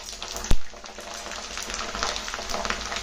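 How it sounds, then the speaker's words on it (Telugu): Chillies frying in hot oil for an amla pickle, giving a steady crackling sizzle with a single sharp knock near the start and no talk. "కొన్ని మిరపకాయలు, వీటిని కొంచెం వేగనిద్దాం"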